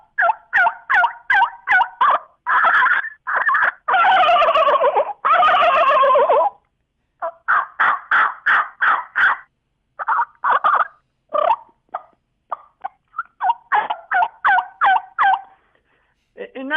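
A recorded wild turkey sequence: bursts of rapid gobbles and yelps alternate with longer rolling calls, loud and close, with short pauses between phrases and no talking.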